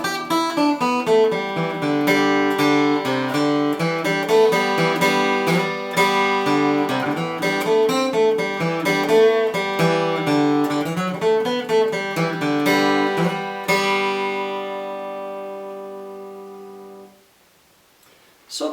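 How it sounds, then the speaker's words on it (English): A guitar solo over Lonesome Road Blues built on major pentatonic notes, a busy run of quick picked notes over ringing backing that fades out near the end, with no talk. "So if I was to do a solo to Lonesome Road Blues and think about it this way"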